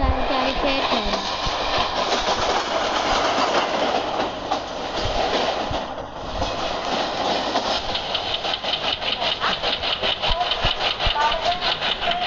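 Passenger train running with steady clattering rumble and rhythmic clickety-clack of the wagons, heard from inside a chair-car coach, with a passing second train adding a brief swell; people talk over the noise.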